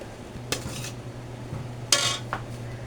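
A utensil scrapes and clinks against a pot as ube is added to cooked sticky glutinous rice for biko, two or three sharp metallic knocks over a low steady hum, no talk.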